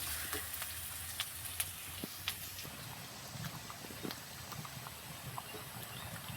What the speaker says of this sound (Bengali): আমি পেঁয়াজটাকে ভালো করে একটু ভেজে নেবো